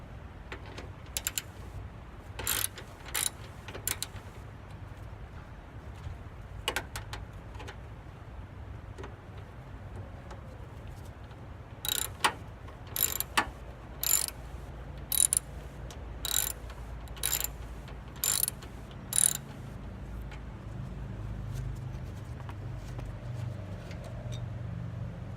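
A 10mm socket ratchet loosens a corroded car battery terminal clamp, giving short bursts of sharp ratcheting clicks over a low background hum, with no talking.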